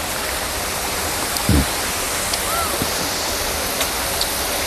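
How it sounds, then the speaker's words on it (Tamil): Waterfall near Munnar, a loud and steady rushing roar of falling water that fills the whole scene, with a few faint brief sounds over it. "அருவியை மட்டுமே நாங்கள் எடுக்கிறோம்"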